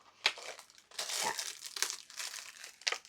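Plastic packaging is handled close up with sharp crinkles and crackles in irregular bursts, some louder and some fading to quiet between handlings.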